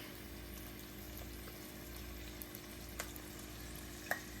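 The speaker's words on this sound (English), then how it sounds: "So now what I'm gonna do is put my steak in here." Steak fries in a pan with fried onions, giving a quiet, steady low sizzle with a few faint clicks and one sharp clatter near the end.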